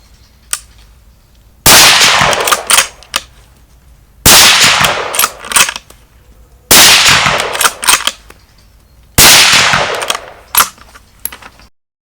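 Four loud, sharp rifle shots fire one after another at steady intervals of about two and a half seconds, each with a short ringing tail and a few small metallic clicks in the gaps, with no voices.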